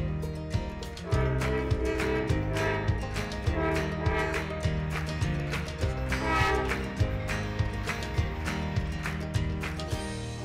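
Rail traffic in a Columbus, Ohio neighborhood: a steady, rhythmic clatter of train wheels rolling over track joints, repeating in even beats for about ten seconds, loud and close with no talk over it.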